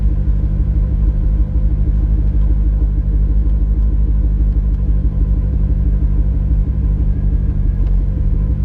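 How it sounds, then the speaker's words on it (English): A car, newly worked on and reversing out of a garage, gives a loud, steady low engine rumble at close range that holds even throughout, with no speech. "This is literally the first time I have backed it out of the garage in over a month."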